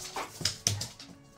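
Pet dogs at home bark at the neighbours' dogs across the street, giving a few short, sharp barks and yelps in quick succession, close and fairly loud, with no talking.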